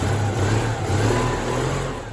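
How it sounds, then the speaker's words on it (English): A car engine runs loud and close, revving up with a steady roar that rises and falls slightly. "And spluttered again, and then roared into life."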